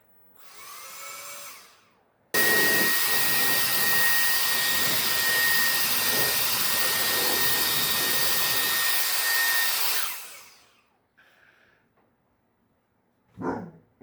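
A MECO electric air duster blows a loud, steady, high-pitched whine for about eight seconds before spinning down, with a shorter burst just before it and a brief blip afterward.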